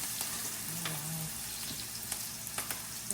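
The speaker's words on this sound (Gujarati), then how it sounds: "લો રાજમાનો વઘાર થાય છે" Rajma being tempered with whole spices, asafoetida and chili, a continuous soft sizzle of hot oil with light crackling and a few small pops, heard close and fairly quiet.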